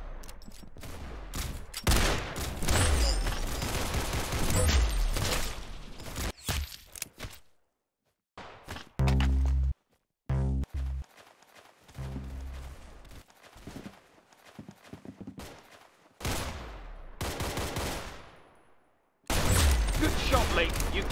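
Gunfire from the Roblox game Arsenal crackles in repeated sharp bursts and rapid volleys, broken by short silent gaps, with voices talking over parts of the action.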